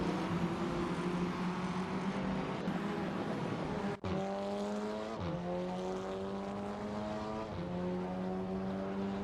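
Several GT3 race cars circuit a track in a racing video game, their engines droning steadily with rising and falling pitch as gears shift, one loud car close by with others layered behind it and a brief dropout midway.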